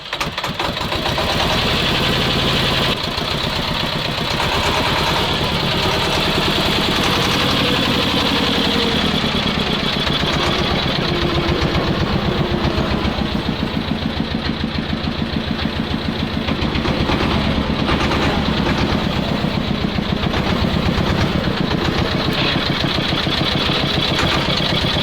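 A T-16 tractor engine runs continuously while the machine drives, a loud, steady, rattling mid-pitched drone with a knocking pulse, close by and unbroken for the whole stretch, with no voices.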